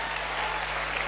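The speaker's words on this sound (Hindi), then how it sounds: "सबसे पहले तो कंपनी के लिए सबसे जबरदस्त वाली ताली बनती है भाई" Steady, dense applause from a crowd at a company event, sustained at an even level throughout a short stretch with no pauses.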